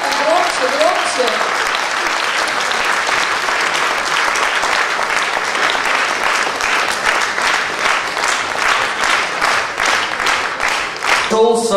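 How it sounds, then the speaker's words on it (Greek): Sustained audience applause fills a festival hall at a Greek song festival awards ceremony, loud and dense for about eleven seconds, with some voices mixed in and a brief spoken or musical sound at the very start. "Аплодисменты в зале."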